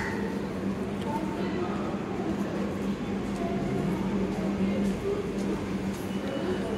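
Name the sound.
MEMU train at Bangalore Majestic railway station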